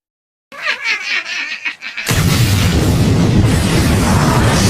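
Silence, then muffled rumbling and scattered noise, followed by a loud, sustained explosion roar of leaking nitro in the film Vertical Limit that fills the rest of the clip.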